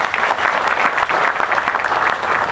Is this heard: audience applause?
yes